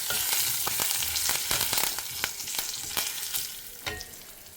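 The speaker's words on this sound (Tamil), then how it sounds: "கடுகு உளுத்தம்பருப்பு கடலப்பருப்பு பொரியட்டும்." Mustard seeds, urad dal and chana dal splutter in hot oil, a dense close hiss broken by rapid sharp crackles and pops, loudest at the start and easing slightly toward the end, with no talking.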